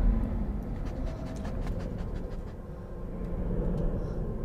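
A dog pants in the Beyond Two Souls video game, giving a rapid, rhythmic breathy panting at moderate loudness over low rumbling game ambience.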